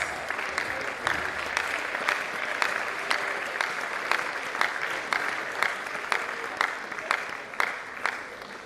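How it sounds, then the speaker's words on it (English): An audience in a hall at a World Mental Health Day event claps steadily, with strong rhythmic clapping continuing throughout and a loud regular beat cutting through the dense applause. "A round of applause."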